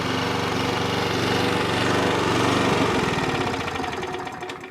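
A bladed engine machine roars at full throttle, loud and steady for the whole stretch, with a dense mechanical drone that eases a little just before the end.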